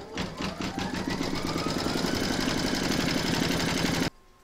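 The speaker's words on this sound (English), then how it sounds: "Pop your hoop back into your machine and stitch round number two to secure it." An embroidery machine stitches a large reindeer applique in the hoop, securing taped batting with a steady, rapid mechanical chatter that runs loud and continuous for about four seconds before stopping abruptly.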